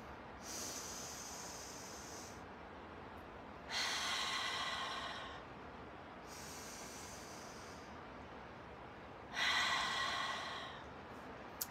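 Long deep breaths during a neck-relaxing breathing exercise alternate between quieter airy inhales and two louder, drawn-out breathy exhales, close and clear with no talking.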